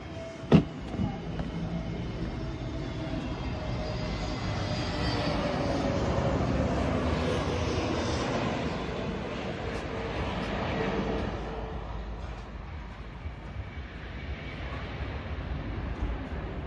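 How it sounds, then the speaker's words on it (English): An Iberia airliner lands on runway 34 at Corfu Airport. Its engine roar builds into a broad, loud rumble, peaks as it passes, then slowly fades into the distance. "And there we have our first arrival from Iberia, from somewhere in sunny Spain."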